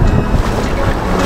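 Rough sea at Fingal Head as the tide comes in, a dense, continuous wash of surf and water with heavy wind buffeting the microphone throughout.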